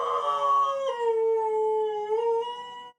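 A husky dog gives one long, close, sustained howl whose pitch slides and wavers, then stops abruptly.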